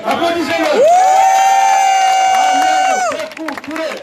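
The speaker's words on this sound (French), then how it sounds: "Applaudissez-le." An audience at a tribute gathering for Malian president Modibo Keita cheering loudly, with a long sustained shout and whoops from the crowd, then scattered calls and cheers trailing off.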